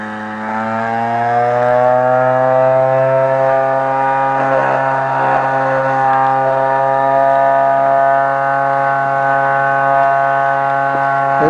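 An Orb Weaver pulse motor runs with its rotor spinning under a Hall sensor, giving a loud, steady buzzing hum with strong stacked harmonics that holds evenly throughout, no voices.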